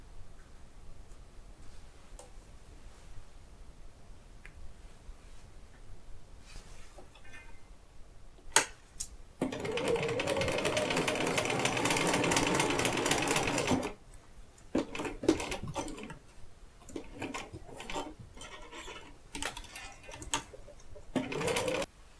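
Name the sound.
sewing machine stitching two quilt halves together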